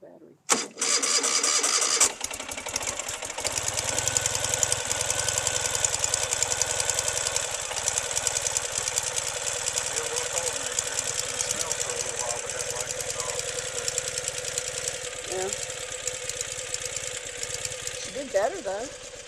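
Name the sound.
Ural motorcycle engine starting and idling after EFI upgrade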